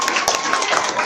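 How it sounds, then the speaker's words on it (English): Audience applause for Jasper at a magic show: a dense, steady burst of many hands clapping throughout the short moment, loud and close, with crowd noise mixed in. "give Jasper a round of applause"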